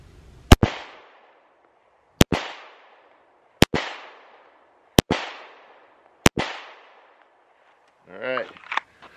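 Five sharp pistol shots ring out during a training drill, evenly spaced about one and a half seconds apart, each loud and crisp with a short echoing tail, followed by a brief burst of metallic clatter.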